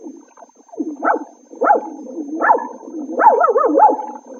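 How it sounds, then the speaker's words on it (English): Small dog barking as a radio show sound effect, a series of high, yappy barks and yips in quick succession, close and fairly loud, growing more insistent toward the end with no talk over it. "Oh, Jack, look at that cute little dog"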